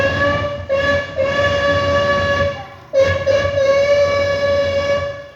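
A black steam locomotive fired by coal or wood sounds a long, loud whistle with rich layered tones, breaking briefly and then blowing again over a steady rumble of rolling rail cars.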